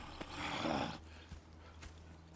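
A horse in Red Dead Redemption 2 gives a breathy snort, followed by a few quiet hoof clops and shuffles, faint and close.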